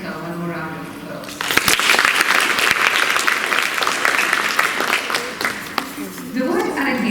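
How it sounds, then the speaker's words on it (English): Audience applause at a Bharatanatyam arangetram, loud and sustained with dense clapping from a sizeable crowd, rising after a brief spoken lead-in and fading as a voice returns near the end. "Let's give Anika one more round of applause."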